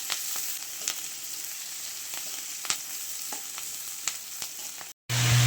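Garlic and green chilies frying in oil in a karahi, a steady bright sizzle with occasional spoon clinks, cutting out abruptly near the end.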